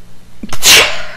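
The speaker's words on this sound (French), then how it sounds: "Je vais éternuer encore une fois là" A single loud, close sneeze: a short intake of breath, then a sharp explosive burst with a hissing tail.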